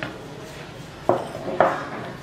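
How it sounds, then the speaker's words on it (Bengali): Two sharp hard knocks of a blender jar being set down on a kitchen counter, close and fairly loud, spaced about half a second apart over a quiet room background. "একটা ব্লেন্ডারে জার নিয়ে নিচ্ছি।"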